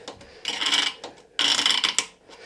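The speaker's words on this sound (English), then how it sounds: "All I'm doing is tightening these bolts down, these fasteners down." Bolts on a BioBidet Discovery DLS bidet seat are being tightened, producing two close bursts of raspy ratcheting and rubbing with brief pauses and small clicks between them.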